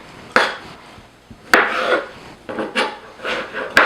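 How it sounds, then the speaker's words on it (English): Knife chopping pickles into rough cubes on a cutting board for a beet salad, several separate close scraping cuts with short pauses between them. "Pickles. Same thing, we're cutting them in approximately same size cubes."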